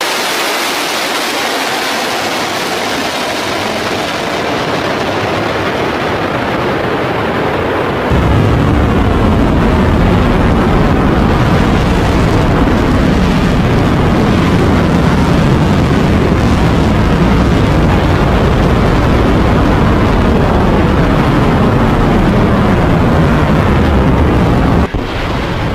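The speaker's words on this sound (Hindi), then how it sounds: "यहाँ पे आप देख पाओगे वीडियो मिसाइल की" Iranian missiles launching: a loud, continuous rushing roar that jumps abruptly in intensity partway through and stays powerful and wide-band, with no voices.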